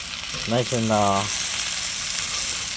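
Steak bites fry on a griddle with a continuous sizzle, while a voice briefly speaks over it near the start.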